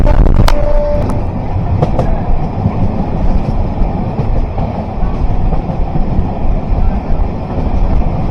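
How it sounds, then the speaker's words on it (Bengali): A train rolls steadily into Adra station, a loud continuous rumble of wheels on rails with a brief high squeal near the start, the clatter sustained close by throughout. "এই মুহূর্তে আমরা ঢুকছি আদ্রা স্টেশনে"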